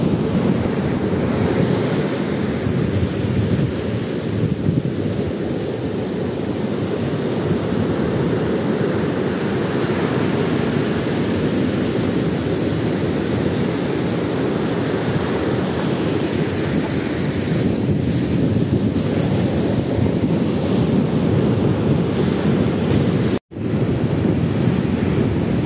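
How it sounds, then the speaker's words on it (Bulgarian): Ocean waves surge and wash continuously, a loud, dense roar of surf with slow swells, broken only by a brief dropout near the end. "А сега се насладете малко на вълните на океана."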